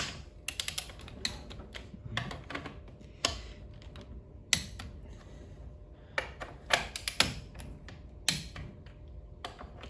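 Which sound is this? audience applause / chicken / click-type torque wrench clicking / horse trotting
click-type torque wrench clicking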